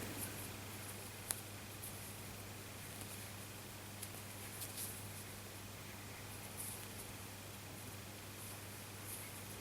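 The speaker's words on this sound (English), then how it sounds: "I don't know if you can hear that noise in the background, that's my washing machine." A steady low mechanical hum with a faint wash of noise runs throughout, like a washing machine working in another room, with no talking.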